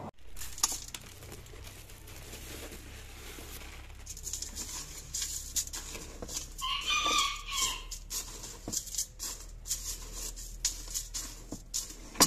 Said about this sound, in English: now I gotta go feed the chickens.